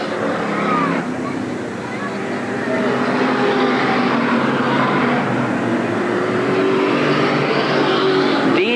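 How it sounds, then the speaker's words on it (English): Race cars at Eugene Speedway in 1987, engines droning continuously under a race announcer's commentary, with a steady loud roar and slight swells as cars pass. "Halsey and Brew on the backstretch, then Dean Cast"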